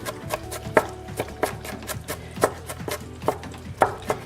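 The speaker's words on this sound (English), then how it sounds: "I'm going to run my knife through it again" A knife chops onion on a cutting board in a kitchen, with a quick, fairly steady series of sharp taps, close and clear, with no talking.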